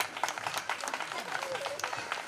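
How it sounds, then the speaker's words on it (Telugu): An audience claps to congratulate a teacher at a gathering, a quick burst of scattered hand claps mixed with crowd noise while voices carry on over it. "గట్టిగా చప్పట్లు కొడుతూ సార్ గారిని అభినందించుకుందాం."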